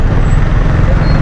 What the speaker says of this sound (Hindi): ट्रैफिक काफ़ी जाम है यहाँ पर